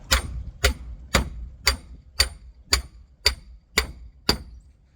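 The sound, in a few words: hammering a bearing into place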